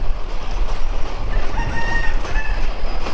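A fast local train pulled by a Hyundai Rotem locomotive rumbles and clacks steadily near Lalmonirhat on a foggy winter day, with a rooster or chickens calling faintly in the background and no talk.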